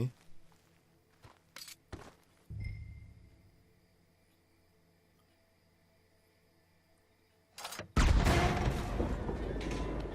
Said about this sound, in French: Push the stick, Arthur. Utiliser détonateur, ok